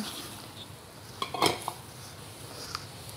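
Ingredients for beef chapli kabab, including crushed red chilli, chopped tomato, cornflour and chopped omelette, are stirred in a bowl, giving faint scraping and a short burst of clinking utensil contact midway, with no talk.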